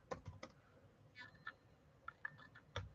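Bursts of clicking keystrokes from a computer keyboard, typed in short irregular runs with pauses between, fairly close and moderately quiet with no talking.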